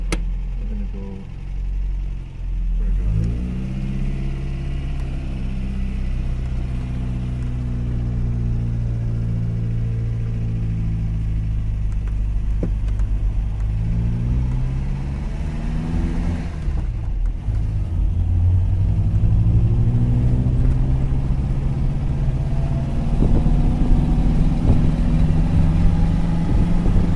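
An MG car engine idles, then revs and pulls away from a cold start, its steady rumble rising and shifting in pitch as it accelerates and shifts gears.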